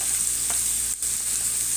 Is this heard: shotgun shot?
no